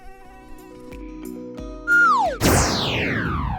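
A thin, high-pitched mosquito buzzing whine with sweeping pitch shifts, loud and close, like insects droning near the ear.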